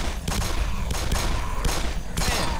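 Gunfire in the video game Black Mesa, loud bursts of rapid shots in several clusters in close succession.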